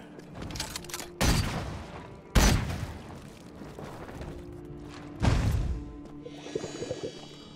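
Gunfire in the PC soulslike game Pascal's Wager: a few heavy, booming shots spaced seconds apart, each one followed by a trailing rumble, over a low ambient backdrop.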